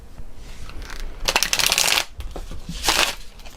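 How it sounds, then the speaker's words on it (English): Tarot cards being shuffled by hand in two bursts of quick papery riffling, close and fairly loud, with quieter handling between them. "So I did pre-shuffle these, but I just like to shuffle again"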